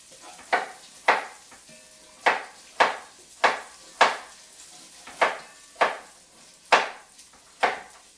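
A knife chops bigger carrots on a cutting board in sharp, close knocks at an uneven pace, about a dozen strikes with short gaps between them in an otherwise quiet kitchen.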